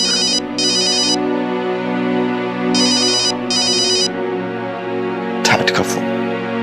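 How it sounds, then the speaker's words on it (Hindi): A phone ringtone chirps in repeated bursts over a background music score in a Hindi TV drama scene, followed by a brief rustle near the end. "डैड का फोन।"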